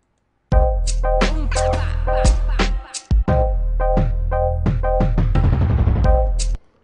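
A looped electronic drum beat with punchy kicks, snares and hi-hats over sustained synth tones, playing loudly and steadily with a brief dropout midway.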